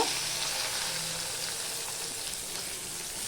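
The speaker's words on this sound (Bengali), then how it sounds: "এবার এই অবস্থায় আমি রসুন পেঁয়াজটা দিয়ে দেব" Garlic and onion hit hot oil already crackling with five-spice seeds, making a steady, close, dense sizzle that holds evenly throughout with no talking.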